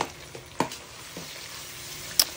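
Tomatoes and meat seasoning stirred together in a pot, with a low, quiet simmering sizzle broken by a few soft scrapes and knocks of the spoon.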